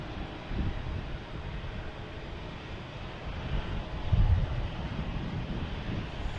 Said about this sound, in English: Next to arrive is United Airlines coming in from San Francisco